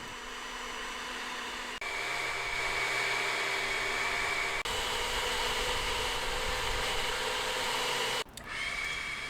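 An Alloyman 40V cordless leaf blower rated at 500 CFM runs steadily at full power, a loud, close broadband rush with a thin whine on top, briefly dipping twice before recovering.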